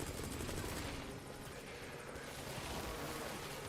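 Rotor chop and gunfire from a support helicopter arriving in a video game, a dense, steady roar with rapid thumping and crackling shots throughout, loud and continuous with no talk.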